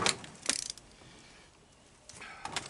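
A ratchet wrench clicks briefly while working on a Honda ATC engine being torn down for low compression, two short close ratcheting bursts separated by a quieter pause.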